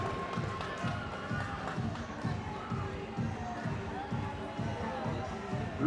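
A large crowd roars steadily at a minor-league baseball game, High Point Rockers vs. Lexington Legends, during a between-innings spinning contest, with rhythmic thumping stomps or claps pulsing underneath the cheering.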